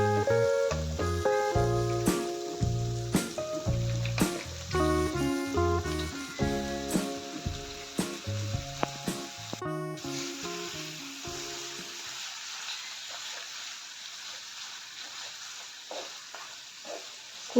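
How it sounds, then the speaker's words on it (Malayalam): Chicken pieces are stirred and fried in a tomato masala for a Kerala-style chicken curry. Music plays over the first part, then a steady close sizzle continues alone, broken by spoon strokes. "കൂട്ടുമായിട്ട് ചിക്കനെ നല്ലപോലെ മിക്സ് ചെയ്തെടുക്കണം."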